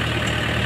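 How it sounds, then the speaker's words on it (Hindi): Mahindra 585 DI tractor engine, non-turbo, running a thresher: a steady, loud low drone with continuous mechanical hum and no pauses. "काफ़ी शानदार तरीके से ट्रैक्टर चल रहा है"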